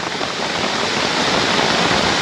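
A steady, dense wash of heavy rain beats down on a hut during a storm in the forest, building slightly and continuing loud and close with no voices.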